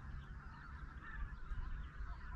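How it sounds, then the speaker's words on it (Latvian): Geese or other waterfowl honk and call repeatedly beside the Lielupe river, a steady chorus of overlapping cries at moderate distance, fairly faint over a low outdoor rumble. "Baigā putnu vieta te."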